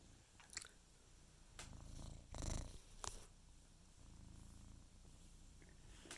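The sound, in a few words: cat purring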